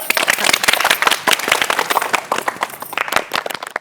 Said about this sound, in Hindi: जीजा जी के लिए फिर से ताली बजा दो